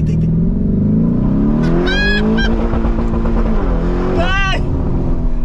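A Lamborghini Urus engine revs hard and bounces against its rev limiter, with stuttering high-pitched whines cutting in and out; a voice speaks briefly underneath.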